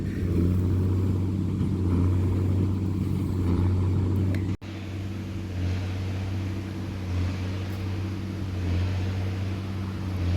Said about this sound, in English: Tractor sounds nice.